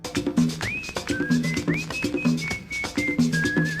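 A bright, rising whistle plays over the intro of a merengue song, repeating in short phrases above a steady, bouncy rhythm section of bass and percussion.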